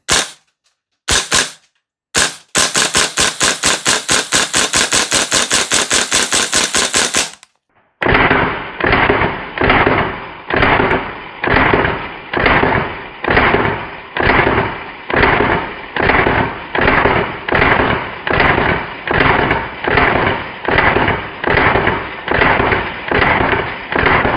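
VFC V3 URGI 10.3-inch M4 gas blowback airsoft rifle emptying a full magazine with a suppressor fitted: a few single sharp shots, then a fast full-auto burst, then a long run of steady, slightly muffled pops, loud and close.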